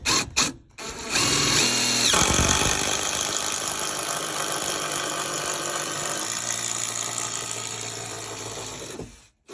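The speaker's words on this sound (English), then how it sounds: "Look, put the drill in there." A power drill whines loudly and continuously, grinding as it bores through wood for bathroom electrical piping, then stops abruptly.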